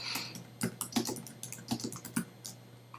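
Keys clatter on a computer keyboard as a name is typed for a saved search in real-estate listing software: a quick, uneven run of close, crisp clicks over a faint background hum, no speech.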